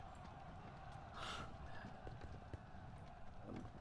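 Cavalry horses gallop in a Civil War strategy game, a steady drumming clip-clop of many hooves under constant battle din, with a brief louder burst partway through.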